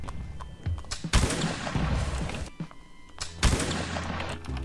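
Gunfire in the Roblox game Blood & Iron, with two loud close shots ringing out about two seconds apart over a backdrop of scattered distant battlefield shots and rumbling noise.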